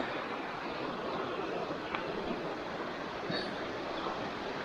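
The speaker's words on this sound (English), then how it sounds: "if you want to hear the rolling water of the creek while you're camping" Steady rushing, broadband water noise from a creek beside a campsite at Vogel State Park campground, constant and fairly close, with no talk and only a couple of faint clicks.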